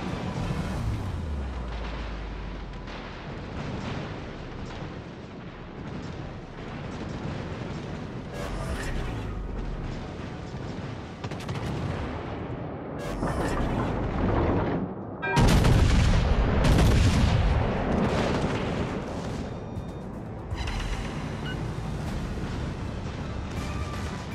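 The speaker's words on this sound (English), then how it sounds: "Concentrate fire on the enemy warship to sink them." Heavy warship guns boom out in a naval battle in World of Warships: Legends, a dense barrage of deep, loud blasts and rumbling impacts that swells into a powerful burst midway and keeps rolling, no talk.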